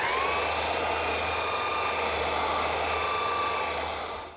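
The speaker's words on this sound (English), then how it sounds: "now I'll smooth it all out with my belt sander" A belt sander runs steadily on a glued-up wood panel, a loud continuous whine with a low motor hum, holding level before easing off at the very end.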